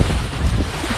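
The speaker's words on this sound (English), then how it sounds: "there are these roller waves kind of coming at us, but they're not too big" Small roller waves about two feet high wash against a sailboat off SW Florida, a steady broad rush of water with wind buffeting the microphone.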